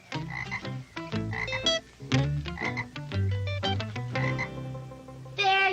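Nearby croaking from a pet frog swimming in a cement pond, a rapid series of rhythmic croaks and rattling calls that run almost continuously, loud and alone with no talk.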